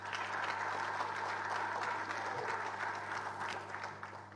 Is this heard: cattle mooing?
no